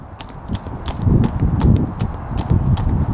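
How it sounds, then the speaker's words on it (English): Rockstar, a big horse, trots with a steady, even two-beat clip-clop of hooves, close and fairly loud over a low rumble of movement and ground noise. "hoof beats"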